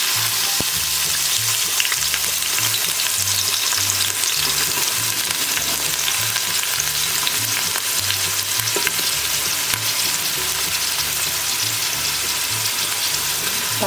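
Oil frying hard in a pan for Nellore fish curry, a dense, steady sizzle that holds at even loudness and sits close for the whole stretch, with no talking over it.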